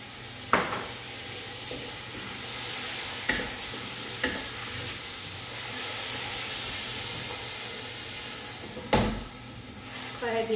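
Tomatoes stirred and fried in a pan, a steady sizzle and hiss running throughout with several sharp utensil scrapes and knocks against the pan, close and moderately loud.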